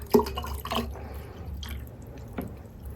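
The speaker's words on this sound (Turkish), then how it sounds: "Üstüne yine alabildiği kadar su ekliyorum." Water poured over garlic in a container for a plant fertilizer, giving soft wet splashes and drips that fade into a low background hum.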